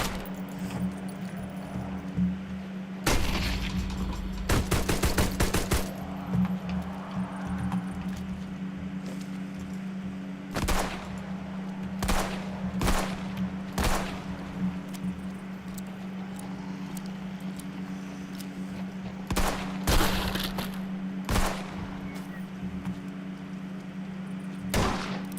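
Gunfire from a VZ gun in a video game: several separate bursts of loud, sharp shots around a steady low hum, with clusters early on and scattered single and double reports later, no talking.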